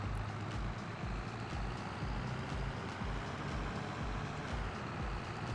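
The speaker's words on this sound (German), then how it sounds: "jetzt kommt auch tatsächlich ein Auto von links und auch von rechts." Vehicle traffic rolls past on a road in Farming Simulator 22, a steady engine rumble with a faint reversing beep near the start, continuous throughout and with no talking.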